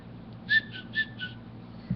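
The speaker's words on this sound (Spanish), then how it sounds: "Él no hablaba, él chiflaba" A person whistles a short series of four or five faint, clipped notes in a quiet room.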